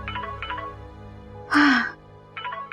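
A phone rings in a Marathi TV drama scene with short repeated melodic ringtone bursts at the start and end. A louder, wailing vocal-like cry breaks in between them.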